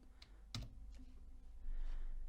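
A computer keyboard gives a Ctrl and slash shortcut as a crisp keystroke click, with a couple of softer key taps over a low background hum, close and with no talking.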